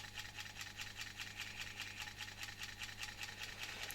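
A Zelmer type 300 vacuum cleaner motor, taken from a Zelmer 268.6 with its bearings replaced, runs steadily on a reduced 24 V supply, giving a continuous mid-pitched whir with a fast pulsing rattle and a low hum.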